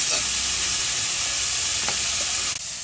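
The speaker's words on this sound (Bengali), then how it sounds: "লবণ হলুদ দিয়ে দেওয়া হলো এগুলোকেও একটু ভেজে নেওয়া হচ্ছে" Vegetables with salt and turmeric fry in a pan with a loud, steady close sizzle that drops off sharply near the end, no voices present.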